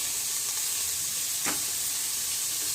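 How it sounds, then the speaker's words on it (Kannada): Beetroot palya fries in a pan with a constant close sizzling hiss, broken by one short sharp scrape of stirring midway, no voices. "ಈಗ ಚೆನ್ನಾಗಿ ಫ್ರೈ ಮಾಡ್ತೀನಿ"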